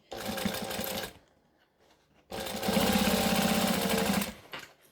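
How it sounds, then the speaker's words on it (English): Sewing machine stitching fabric in two close bursts separated by a short pause, the second longer run including back stitching, steady rapid needle chatter with no talk. "I'm going to come under and start here, and I'm going to stitch, and I'm going to back stitch."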